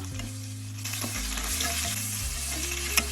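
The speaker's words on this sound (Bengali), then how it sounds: "এখন আমি এই সেম তেলের মধ্যে কচুর মুখি একটু করে মানে ভেজে নিব" Taro corms frying in hot oil for a small-fish hilsa curry, a steady close sizzle with stirring scrapes and a low hum underneath, continuous throughout.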